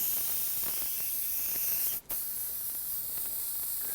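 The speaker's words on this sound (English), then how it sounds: "The airbrush is only spraying like a half fan pattern." An airbrush sprays candy red paint in a steady, close hiss, with one brief break in the flow midway before the spray resumes.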